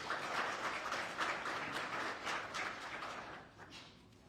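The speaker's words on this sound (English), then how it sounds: "let's give a round of applause for Jessica" Audience applause at an optometry scholarship presentation, a moderate patter of many hands clapping that dwindles to scattered claps near the end, heard from some distance and without talk.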